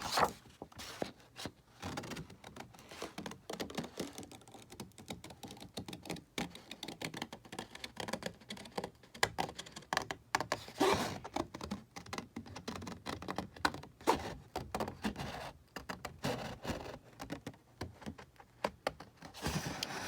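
Scissors cutting paper into a butterfly shape for a pop-up Bible tip-in, heard as a long run of quick, crisp snips and clicks, close up and steady for about twenty seconds with no talking.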